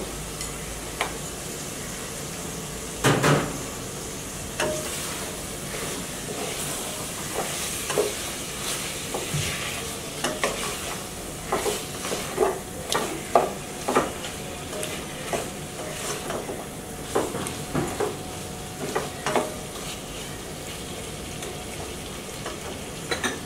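Chicken curry with coconut being stir-fried in a pan, with repeated scraping strokes of a spoon and a steady low sizzle, close and moderately loud, with no voices.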